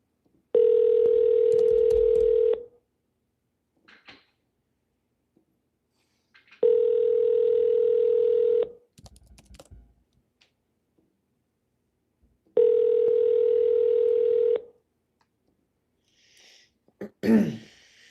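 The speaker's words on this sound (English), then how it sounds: "At the tone, please record." A phone line sounds a voicemail recording tone: three identical sustained electronic tones of about two seconds each, separated by silent gaps, followed by a few brief soft noises at the end.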